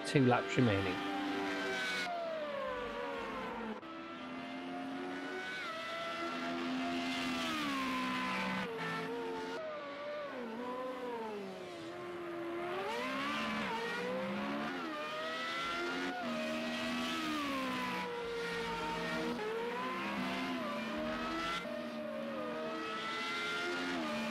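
Race cars lapping in a racing video game, engines whining and shifting pitch continuously as they accelerate and pass, steady and prominent under a commentator talking throughout.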